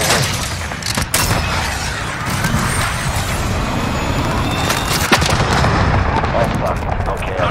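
A cruise missile strike in Call of Duty Modern Warfare Hardpoint mode, heard as a continuous loud roar of blasts and rumbling that runs the full length without a break.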